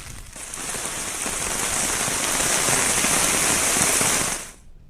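Heavy rain pours down in Uttarakhand, a dense, steady hiss of drops drumming on surfaces that swells slightly and holds loud and close before cutting off abruptly near the end, with no voices.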